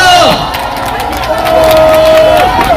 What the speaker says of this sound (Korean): 이재명 대표께 다시 한번 큰 박수 부탁드립니다